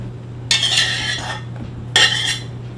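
Zucchini going into a very hot pan with clinking utensil-on-pan stirring, two bursts of scraping and rattling separated by a pause over a low steady hum.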